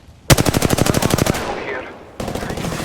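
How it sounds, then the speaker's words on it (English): Rapid automatic gunfire in Apex Legends rattles in a fast, even burst of about a second, goes quiet briefly, then a second burst starts up, loud and close. "Taking fire, brothers. Taking fire."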